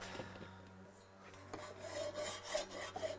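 A flat file rasps against a workpiece in irregular, close strokes of scraping and rubbing, fairly quiet, with no voices.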